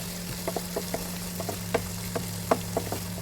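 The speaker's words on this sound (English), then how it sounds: "As you can see here, onions are getting well fried." Onions fry in a pan with a steady low sizzle, scattered pops and crackles cutting through at an uneven rhythm over a constant hum, heard close with no talking.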